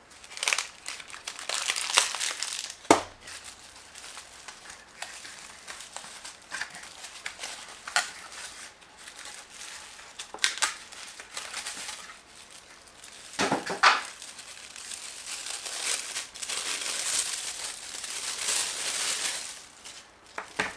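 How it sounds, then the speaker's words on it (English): Paper wrapping and plastic packaging crinkled and crumpled while a Star Wars Black Series action figure is unpacked, with bursts of close rustling and crinkling that come and go without pause and no talk. "So let's get the figure out of the rest of the packaging"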